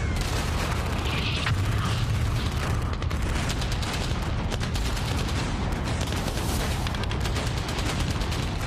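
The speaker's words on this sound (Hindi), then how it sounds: "5 मिनट तक दोनों तरफ से गोलियां चलती रहीं।" Gunfire trades back and forth during a Taliban rocket attack on a convoy, a continuous dense roar of shots and booms that stays loud and unbroken throughout, with no voices.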